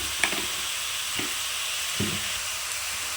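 Spice powders such as turmeric and chili frying in a pan for a home-style chicken curry, giving a steady close sizzle with a few soft scrapes of stirring and no talk.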